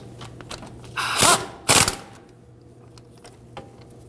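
Two quick ratcheting bursts, close and fairly loud, as hub assembly bolts are snugged up on a 2013-2015 Subaru XV Crosstrek rear wheel bearing job, with quiet workshop hum between.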